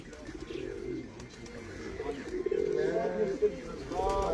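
Pigeons coo in soft, repeated low calls, growing clearer toward the end, while people talk over them at a pigeon keeper's loft.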